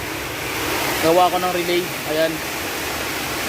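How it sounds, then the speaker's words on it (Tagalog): Heavy rain pours steadily as a broad, loud hiss throughout, while someone talks briefly over it during work on a Honda Fit's electrical fault. "pasensya na kayo sa ulan medyo malakas talaga."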